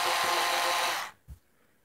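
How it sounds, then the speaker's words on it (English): Power drill boring holes in a box, a close, loud whirring grind for about a second that cuts off sharply, followed by a brief low knock. "Take a drill and drill out your four holes."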